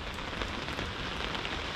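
Steady rain falling on a morning in Bowen, Queensland, a dense, even hiss of drops pattering on surfaces without letup, fairly close and loud.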